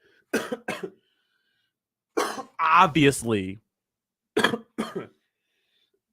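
Several bursts of coughing close to the mic, in short pairs separated by silence, with a brief spoken word in the middle.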